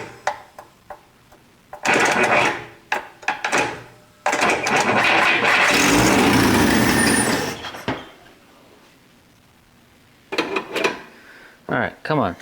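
An abandoned 1962 AMC Rambler engine cranks over and over while failing to start, loud bursts of grinding with a long sustained crank in the middle, broken by pauses and clanks, with people talking nearby.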